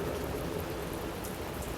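Steady, dense rain falls continuously, an even hiss of drops without pause, thunderstorm rain with no voices.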